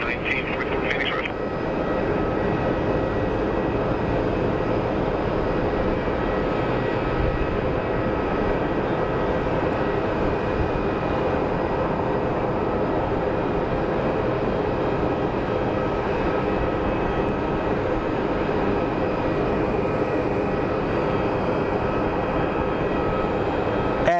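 Spirit Airlines airliner at Phoenix Sky Harbor airport, a steady loud jet engine roar holding level throughout, with a voice talking over it at times.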